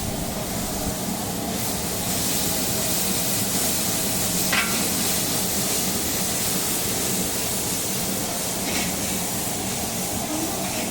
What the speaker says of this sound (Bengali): এবার দিয়ে দিচ্ছি রসুন পেস্ট।